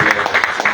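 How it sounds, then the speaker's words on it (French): A brief burst of clapping from a crowd, short and fairly loud. "Est-ce qu'on peut applaudir pour Papa Pierre?"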